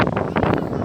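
A strong gusting wind from a sea storm on the Black Sea coast buffets the microphone in a loud, rough roar that lasts the whole brief moment.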